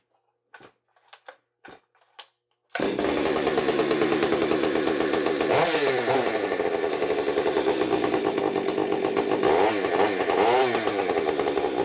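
A Stihl 70cc chainsaw fires up after a few short pull-start rasps and then runs steadily and loudly at high revs, close by, with brief dips and surges in pitch.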